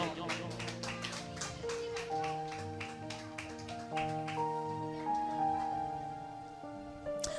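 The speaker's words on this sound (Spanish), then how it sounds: "Dale otro aplauso fuerte al Señor" Congregation clapping in a church service, rapid scattered claps over sustained organ or keyboard chords, moderately close.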